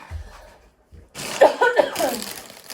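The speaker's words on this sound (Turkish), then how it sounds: "Öksürme anne." A woman coughs during a home game, a short burst of harsh, close coughs following a brief quiet pause.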